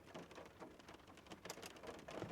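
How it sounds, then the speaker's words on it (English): Rain falls steadily, a faint, diffuse patter with scattered louder drops hitting nearby surfaces and no voices. "But now it's just raining"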